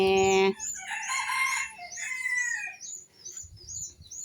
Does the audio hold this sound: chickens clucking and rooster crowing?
yes